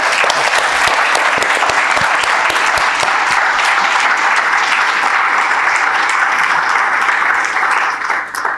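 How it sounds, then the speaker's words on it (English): A crowd at a housing policy event applauds its panelists, sustained and loud throughout, tapering slightly at the very end with no talking over it. "let's give another round of applause for our panelists"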